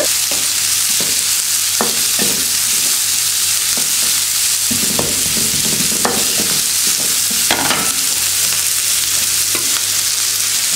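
Onions fry with cloves and curry leaves in a pan for a white kurma, giving a loud, steady sizzle throughout, with repeated spoon scrapes and stirring knocks close by.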